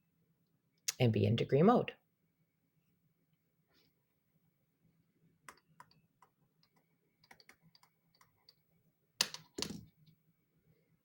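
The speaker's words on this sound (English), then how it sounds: "Type this in our calculator" Calculator buttons pressed in a few light, scattered clicks while someone speaks briefly in a quiet room.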